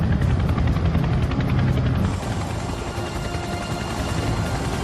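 A Chinook helicopter flies with a loud, steady rotor thrum and whine that eases slightly partway through, with no voices.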